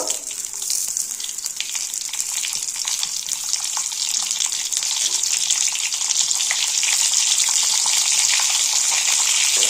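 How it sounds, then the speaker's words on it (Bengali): Pointed gourd fries in mustard oil with salt and turmeric, giving a loud, continuous hiss of sizzling oil that stays close and steady throughout. "পটলগুলো একটু হালকা করে নুন হলুদ দিয়ে ভেজে নেব"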